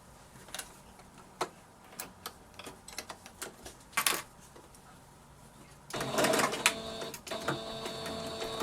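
Quiet clicks and taps lead into a denser burst of sewing machine stitching a 1/2 inch seam, a rapid mechanical rattle lasting a few seconds at moderate loudness.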